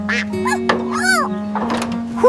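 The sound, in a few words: cartoon duck Ducky quacking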